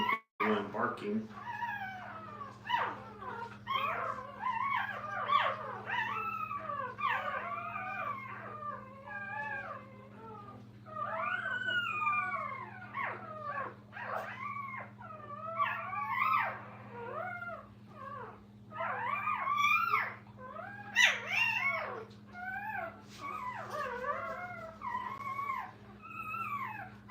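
Puppies in a kennel whimper, yelp and howl in a long run of high, wavering cries, overlapping and fairly close, over a steady low electrical hum.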